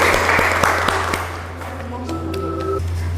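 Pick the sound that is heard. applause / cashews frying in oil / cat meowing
applause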